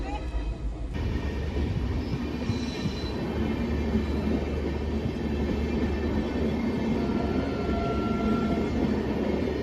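A train rumbles past with a steady, dense roar that holds throughout, heard at night near a home with faint voices in the background.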